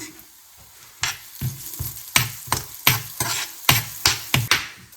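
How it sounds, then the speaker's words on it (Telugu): A spoonful each of cumin and coriander seeds roast in a pan for a Rayalaseema tur dal chutney, with light sizzling under a steady rhythm of spatula scrapes and stirs, close by and without speech. "ఇప్పుడు అదే పాన్లో ఒక స్పూన్ జీలకర్ర అలాగే ఒక స్పూన్ ధనియాలు వేసుకుని వేయించుకోవాలి"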